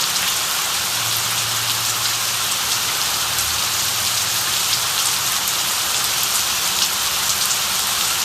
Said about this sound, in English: it's raining very hard